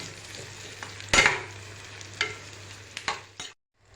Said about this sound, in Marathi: कांदा व्यवस्थित परतून घ्यायचा।